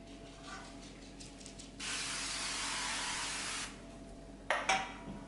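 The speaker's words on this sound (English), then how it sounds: "I'm going to spray it with a really thin coat of oil" A steady spray of oil onto a pizza tray hisses for about two seconds, close and fairly loud, followed by a couple of brief rattling knocks.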